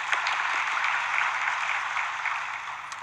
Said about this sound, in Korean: 갈릴리 성가대 찬양대에게 감사의 박수 한번 드리겠습니다